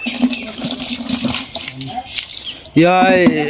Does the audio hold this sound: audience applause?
no